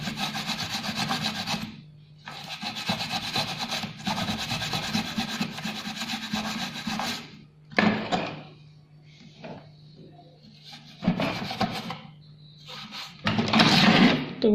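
A brush scrubs an Asus P5G41C-M LX motherboard wet with thinner, in long rasping strokes for several seconds, then shorter separate bursts of scrubbing with quiet gaps between them.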